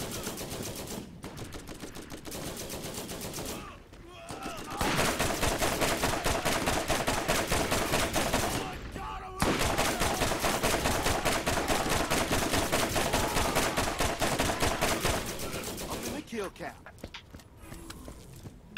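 Automated turrets in Borderlands open fire in a sustained rapid gunfire barrage, loud and continuous through most of the stretch, with brief lulls and a voice talking over the shooting.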